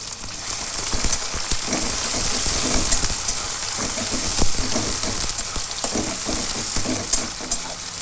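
Chopped onions fry in oil in a wok with a dense, continuous crackling sizzle at close range, scattered with soft scraping stir strokes, and no voices.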